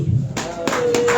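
A church congregation breaks into applause, a dense burst of clapping that starts abruptly and holds steady and loud through the short moment.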